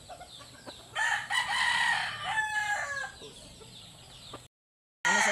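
A rooster crows twice in quick succession, close and clear, each call a rising then falling strained cry, with quiet farmyard background and a short gap of silence near the end.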